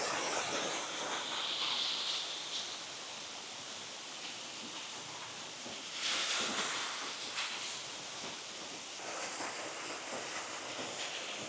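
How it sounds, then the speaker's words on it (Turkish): Aydınpınar Waterfall in the forest near Düzce roars as a steady, broad rush of falling water, close and constant, with brief swells in intensity and no voices. "Şelale tam arkamda şu anda."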